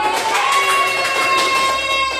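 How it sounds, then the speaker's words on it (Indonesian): Classroom of sixth-grade children clapping and cheering together, a loud, dense burst with excited young voices mixed in. "Ya, betul tepuk tangan."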